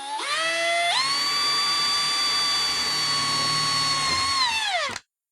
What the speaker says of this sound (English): I'm going to start off by drilling a small hole first.